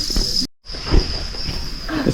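Crickets in Da Lat, Vietnam, keep up a steady high, continuous chirring drone. It cuts out for a brief moment, then carries on under faint rustling and soft background noise.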